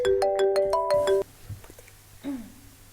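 A phone ringtone plays a short melodic chime pattern for about a second in a home kitchen, then stops, leaving quiet room sound with a faint voice.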